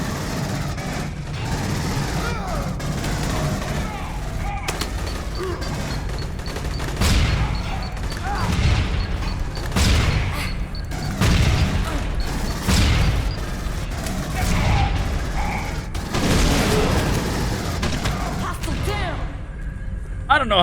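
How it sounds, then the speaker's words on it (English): Continuous Aliens: Colonial Marines game action with repeated booms, crashes and bursts of gunfire layered over a rumbling background for about twenty seconds, loud and busy. "My loud explosions distracted him."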